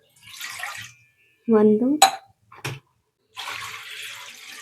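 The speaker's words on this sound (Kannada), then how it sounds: "1 ಪಾವಿಗೆ 2 ಪಾವ್ ನೀರು ಹಾಕ್ಕೋಬೇಕು." Water is poured into a cooking pot to boil for idli rava, heard as two splashing pours with a brief voice and a couple of metallic clinks between them.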